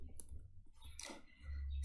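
Computer mouse clicks while working in Revit, a few quick faint clicks close by with short quiet gaps, no voices.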